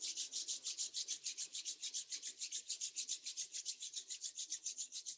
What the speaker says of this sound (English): Slowly rub your palms.